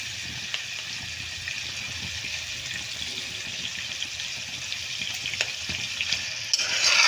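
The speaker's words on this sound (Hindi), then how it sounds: "थोड़ी सी चमची हिलानी है।" Spoon stirring macaroni in a cooking pot, a steady soft wet sizzle and scraping with a few light clinks, continuous and close with no talk.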